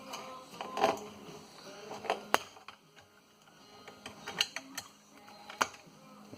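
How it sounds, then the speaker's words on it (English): A cut-open fuel pump from a 1967 Chevy G10 is pried apart by hand, producing scattered close metallic clicks, scrapes and creaks in uneven bursts against a quiet background. "Let's see if I can pry this open."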